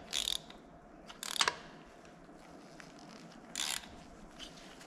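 A ratchet socket wrench turning a spark plug into a repaired thread on a 1964 VW Beetle engine, three short bursts of quick clicking separated by quiet pauses, close and fairly faint.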